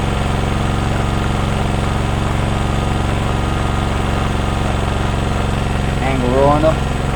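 An Ozito 2000W generator runs at a steady close drone with a slight vibration, its even engine hum continuing throughout while someone talks briefly near the end.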